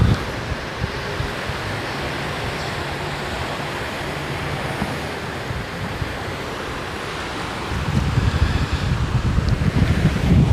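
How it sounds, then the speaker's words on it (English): Sea waves roll in on the shore at Pattaya, Thailand, as a steady wash of surf mixed with wind rush, swelling louder near the end. "You can hear the sea."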